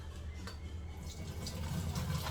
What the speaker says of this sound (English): we are gonna drain the water out into this thing, in the pasta